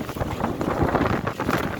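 Strong wind in a sunflower field buffets the microphone in rough, uneven rumbling gusts, loud and close throughout with no other clear sounds.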